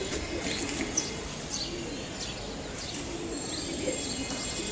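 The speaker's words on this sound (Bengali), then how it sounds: "কবুতরগুলা নেমে আসছে তাও বাসার উপরেই" Pigeons coo softly near a house roof, with several low calls and faint chirps spread over a steady hot-day background hum.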